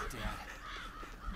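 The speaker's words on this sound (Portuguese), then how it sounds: "Pássaros ali" Crows cawing in the hunting video game Cabela's Dangerous Hunts 2013, harsh calls rising over a steady outdoor ambience, with a voice talking alongside.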